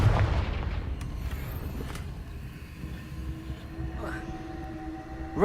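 A Confringo fire spell explodes in Hogwarts Legacy, opening with a loud low boom that rumbles and decays over several seconds, followed by a brief whooshing sweep near the end amid game ambience.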